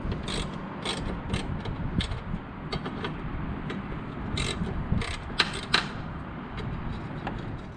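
Ratchet clicking while a bracket comes off a 2001 BMW 325i E46 wagon, with quick bursts of ratcheting strokes against a steady background hum, close up and with no talking.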